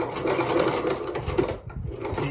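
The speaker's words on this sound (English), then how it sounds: "So always give it by hand a couple of times to make sure that you're not going to jam the thread up." A Consew 29 cylinder arm lock-stitch sewing machine for shoe repair is turned over by hand, its mechanism giving a close, steady whirring clatter that briefly dips near the end, with no talk.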